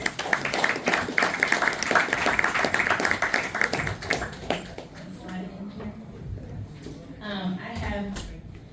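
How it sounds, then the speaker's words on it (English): Clapping for Sister Trinity Norwood as she is called up at an honor ceremony, a burst of audience applause that fades after a few seconds into quieter room sounds and talking. "You give her a applause."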